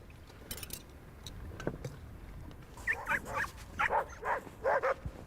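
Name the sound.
dogs barking and whimpering at camp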